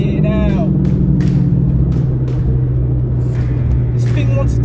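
A Mini Cooper R53 track car drives fast with a constant deep engine rumble close by, while a voice talks over it.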